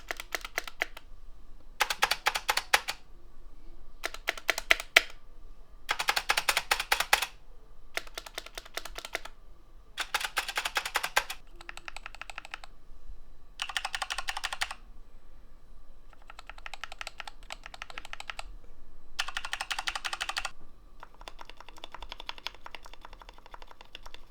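Typing on two mechanical keyboards, a custom KBD Fans Tofu 60 build and a Corsair K70, in alternating bursts of rapid clacking keystrokes separated by short pauses, close and clear with no talk.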